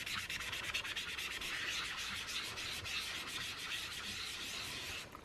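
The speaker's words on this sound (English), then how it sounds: "I'm not cleaning my stencils, I'm just cleaning my sponges" Craft sponges rubbed and scrubbed clean after stencil work, a continuous dry, hissy rubbing close up, steady and even for a few seconds before stopping.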